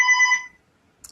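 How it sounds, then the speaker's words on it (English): A mobile phone rings with a short electronic tone, bright and clear for about half a second before cutting off into silence, then a faint click. "I'm so sorry my phone is ringing."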